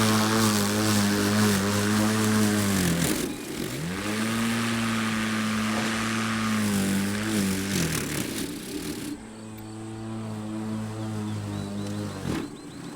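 A gas lawn mower motor churns loudly through thick grass, its pitch dipping and recovering several times as the blade bogs under load, with no voices over it.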